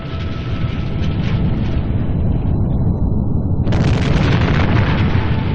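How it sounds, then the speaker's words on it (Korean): A massive volcanic eruption of Mount Vesuvius, a loud continuous roaring rumble that surges into a bigger blast partway through, dense and overwhelming. "서기 79년 8월 24일 오후 1시경 굉음과 함께 베수비오 화산이 폭발한 것이다."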